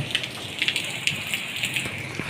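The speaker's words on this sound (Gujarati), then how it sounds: "વરસાદ ચાલુ છે ફૂલ જો." Rain falls steadily outdoors in a village on a wedding day, a soft continuous wash with scattered sharper drop taps, moderately close and fairly quiet.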